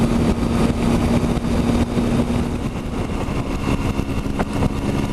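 Triumph Tiger 1050 motorcycle on the road on a sunny winter day, its engine droning steadily under heavy rushing wind noise, close and continuous throughout.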